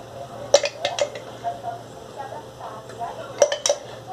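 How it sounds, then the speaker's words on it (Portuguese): A utensil clinks and taps against a pan while ready-made onion and garlic seasoning sautés in a drizzle of olive oil, in scattered metallic knocks over a quiet background, with a person talking. "Eu vou dar uma refogadinha"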